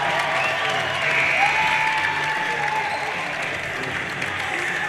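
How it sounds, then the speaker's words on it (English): A crowd at a Pennsylvania high school boys' basketball game between Redbank Valley and Kennedy Catholic applauds and cheers steadily, a dense wash of clapping and voices filling the gym at an even, loud level, with some talk mixed in. "Crowd really getting into this one here this afternoon."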